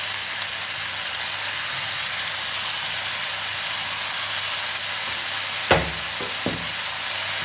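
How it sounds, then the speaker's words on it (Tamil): Tomato paste fries in a pan for a vegetarian fish curry, producing a loud, even hiss that runs throughout, with a couple of brief knocks near the end. "இப்போது அரைச்சி வச்சுருக்க தக்காளி பேஸ்ட்டை இதில் கொட்டிடுவோம்."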